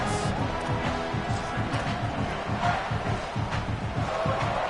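Loud, dense crowd roar fills the whole stretch at a Texas A&M versus South Carolina football game, a steady wash of cheering and shouting with no pauses, like a packed stadium.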